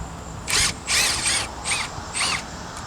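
A power drill backs a deck screw out in five short, whining bursts that rise and fall in pitch, close and loud, with brief pauses between them.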